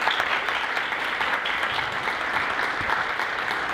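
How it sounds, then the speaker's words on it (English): Steady, dense audience applause at a 2018 Southern California State of Reform policy conference, many hands clapping evenly throughout with no talk over it. "Let's give her a round of applause."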